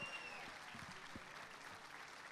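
Audience applause closing a tango singer's show at an evening tango festival, a steady wash of clapping that is fairly faint and distant, with a few low thumps near the start.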